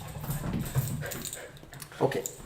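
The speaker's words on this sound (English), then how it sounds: "We have our happy little dog waking up today." A small dog whimpers softly as it wakes, with faint whines and a few low sounds close by, under some background noise.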